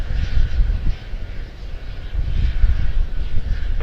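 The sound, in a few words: American Airlines Airbus A321-231 at Charlotte-Douglas airport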